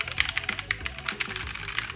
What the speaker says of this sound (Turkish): Bu mekanik bir klavye.